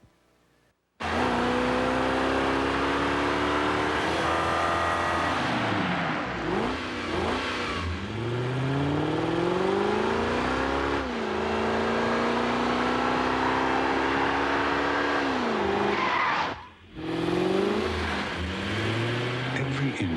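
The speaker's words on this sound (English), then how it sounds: "Every inch of the Lexus coupe was designed to exhilarate you" A Lexus coupe in a TV ad accelerates hard, its engine note sweeping up and down through repeated gear-change revs, with a sudden dip like a skid or cut before it roars on, loud and continuous.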